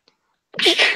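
A single sharp sneeze bursts out after a brief silence, close and loud, with only a faint tick before it.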